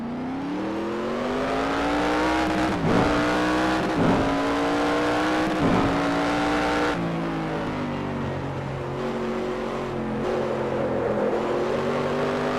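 Corvette race car from the NR2003 video game on a single qualifying lap at Autodrom Moscow, its engine droning loud and steady close by, pitch rising through each gear and dipping sharply at shifts, with faint tire noise and no talk.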